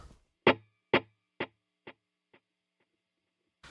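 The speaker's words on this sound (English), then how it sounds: "we'll have a quarter note digital delay with about 4 repeats" A single plucked electric guitar note through a quarter-note digital delay repeats in evenly spaced echoes, each one fainter, fading out after about five repeats.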